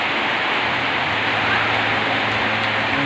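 Heavy rain falls in strong wind over a village with coffee plants nearby, a dense and loud steady roar that stays constant throughout, with no voices.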